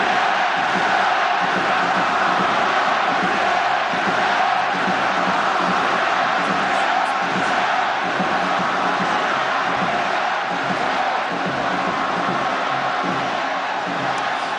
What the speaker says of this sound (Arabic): اسمع واستمتع مع هذه الجماهير.